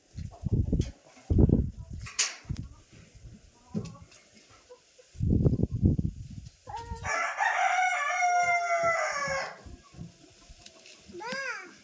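Big village chickens crow and cluck loudly in a long call after a stretch of bumps and handling noises, with a shorter squawk closing the clip.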